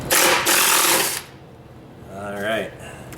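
A loud, steady burst of a power tool backs out skid plate bolts on a Kawasaki KLT 200C ATC, then cuts off, and someone speaks briefly.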